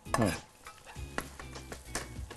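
A soft sizzle of spices, including cinnamon, sautéing under intermittent spatula scrapes against a pan, with a few clinks as ingredients are stirred nearby.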